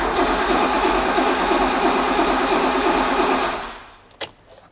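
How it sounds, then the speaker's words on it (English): A BMW M5 E28 engine cranking over on the starter under compression with crank sensors removed, a steady loud rhythmic churning that runs without firing, then winds down and stops, followed by a single sharp click. "I'll give it one last crank without the crank sensors in. See what it's like under compression."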